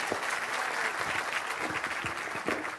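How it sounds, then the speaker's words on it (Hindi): A crowd claps loudly for a speaker at a Bihar political gathering, a thick continuous wash of applause with a few sharper claps standing out, steady throughout. "अब एक बार प्रशांत किशोर जी के लिए जोरदार ताली बजाइए"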